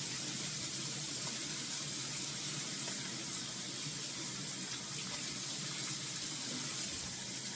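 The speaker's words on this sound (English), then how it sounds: "I'm gonna wash my hands real quick." A kitchen tap runs steadily for hand washing after handling pork, a continuous close splash and rush of water into a sink with no speech.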